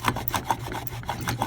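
A hand router cutting a housing joint in wood, making short rasping scrapes in quick irregular strokes, close and moderately loud.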